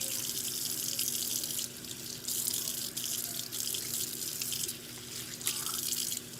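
Tap water runs steadily into a sink while a knife is scrubbed, a close, constant splashing rush with brief dips and shifts as the blade moves through the stream, and no one speaking.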